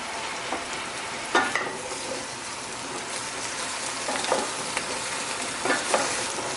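A big pan of vegetables including yellow squash frying with a steady, soft sizzle, broken by several scraping stirs of a utensil at irregular intervals, close by with no voices.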